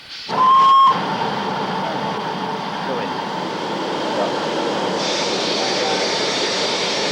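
Third-scale 0-4-2 tank locomotive Sharn on 7¼ inch gauge track at the Conwy Valley Railway Museum, giving a short bright whistle near the start, then a steady rumbling run of the engine with hissing steam close by.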